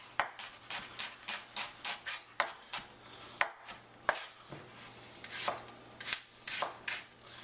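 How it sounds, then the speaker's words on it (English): A knife finely dicing a couple of small onions on a cutting board, quick rhythmic chops in bursts with short pauses, close and crisp with no voices. "I'm just fine dicing a couple of small onions"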